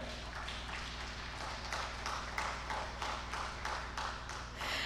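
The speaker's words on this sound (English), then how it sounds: "so could you make the applause a lot better?" Audience applause fills a conference session hall, a steady wash of many hands clapping with some rhythmic bursts, moderately distant and continuous for several seconds.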